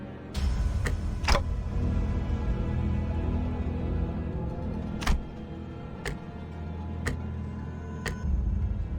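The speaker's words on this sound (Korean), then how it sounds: "째깍대는 소리가 빨라지는 걸 보니" A clock-headed character in the video game Limbus Company ticks, giving sharp, separate clicks at uneven intervals over a low steady background hum.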